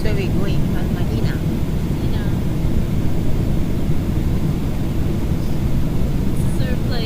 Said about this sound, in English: This is our flight.